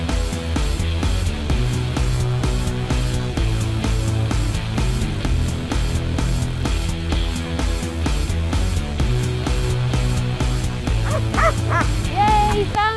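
A search dog from a volunteer dog unit barks repeatedly in short yips and whimpers outdoors, the barking close and persistent over a dense, noisy background.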